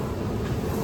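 A train sits at the platform bound for Sorrento on the Amalfi Coast, giving off a steady low rumble and broadband hum with wind noise, close and fairly loud, and no voices.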